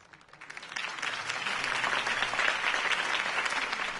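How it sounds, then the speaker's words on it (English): Crowd applause in a Batman video game swells quickly and holds steady, a dense wash of many hands clapping at once, loud and sustained. "could have heard that applause"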